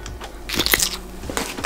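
Someone bites into crunchy red or green food during an eating challenge, giving a few sharp, close crunching bursts with crackly texture over about a second, with no talk.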